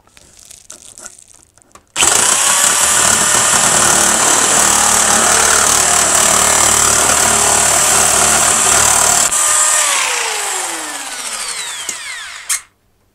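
A Parkside PMK 550 A1 nibbler cutting steel sheet: after a short quiet start, a loud, harsh, continuous buzzing chatter runs for about ten seconds, then the motor winds down and stops abruptly.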